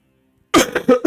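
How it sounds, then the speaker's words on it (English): A single sharp cough bursts out after half a second of silence, followed by a couple of rougher throat-clearing bursts, loud and close. "That was a good cough."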